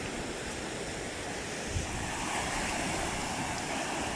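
Large ocean waves crash onto rocks in a steady, loud roar of surf, with broadband wash and a faint gust of wind noise, no voices.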